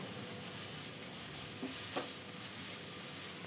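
Sliced onions sautéing in a pan for chicken mappas give a steady, soft sizzle throughout, with a few brief stirring scrapes near the middle and no talking.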